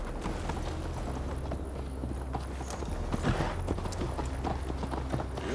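Horse hooves in the video game Assassin's Creed Valhalla: a steady, rhythmic clip-clop of a ridden horse at a moderate pace, close and continuous throughout, with faint game ambience underneath.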